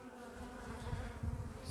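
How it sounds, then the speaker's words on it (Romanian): A honeybee coming to water buzzes close by in a steady, low drone that swells slightly, with no voices. "Albinuța vine la apă."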